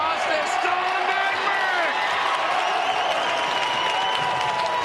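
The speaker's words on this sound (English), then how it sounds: "Listen at this crowd." A loud crowd roars and cheers continuously in a college basketball arena during a Ferris State at Northern Michigan game, with sneakers squeaking and a commentator talking over it.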